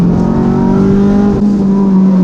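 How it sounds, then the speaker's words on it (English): A car engine revs hard and accelerates close by, a steady loud tonal drone that rises in pitch with a brief dip partway before climbing again, no talk over it. "This car is way fucking faster than I remember it."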